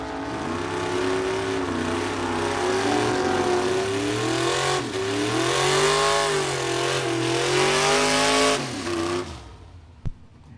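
Vintage gasser drag race cars at a drag strip roar loudly as engines rev and climb through the gears for several seconds, then cut off abruptly, leaving near silence.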